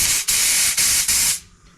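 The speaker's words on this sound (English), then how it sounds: "I'll spray air into the bowl nut." Compressed air is sprayed into the bowl nut of a Craftsman two-stage snowblower carburetor, three loud close bursts of hissing air with brief gaps, ending as the hiss dies away.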